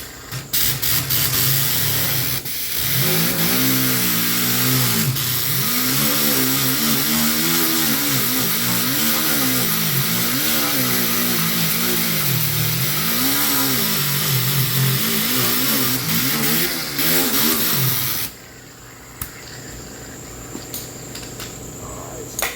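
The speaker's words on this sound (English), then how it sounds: "I'm gonna grind this a little bit so I can weld" An abrasive grinder works paint off the driver's side front door panel of a 2016 Honda Accord before welding, its loud, gritty whine wavering in pitch under load for about eighteen seconds before cutting off to quiet.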